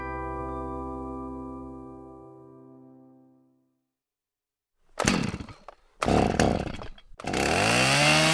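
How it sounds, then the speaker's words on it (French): An engine hums and winds down to silence, then a chainsaw roars to life in loud, close bursts, revving hard with short breaks between cuts. "tu vas la fermer ta grande gueule avec ta tronçonneuse de merde ?"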